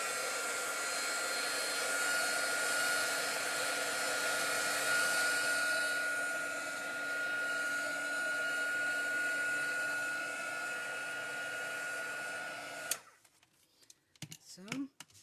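A heat tool runs steadily at close range for about thirteen seconds, heat-setting ink on paper, then cuts off abruptly, leaving a few brief clicks and handling noises.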